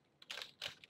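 Computer keyboard typing code, two or three quick soft keystroke clusters, close and quiet, with no voice.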